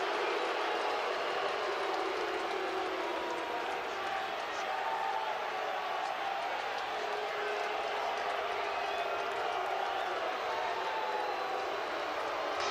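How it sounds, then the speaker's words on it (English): Loud, steady roar of a packed baseball stadium crowd at an Ole Miss versus Nebraska game, a dense continuous wash of voices and cheering throughout, with a commentator talking over it. "the crowd is only going to be louder."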